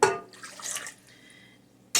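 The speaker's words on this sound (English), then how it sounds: "And then we're going to add a half a cup of warm water." Warm water is poured onto yeast in a kitchen, a short splashy trickle with drips and a faint glassy ring, fading to quiet before another brief splash.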